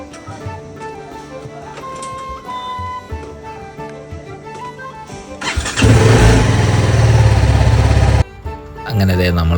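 A motorcycle engine bursts into a loud, close roar for about two seconds, then cuts off. Background music plays before it starts.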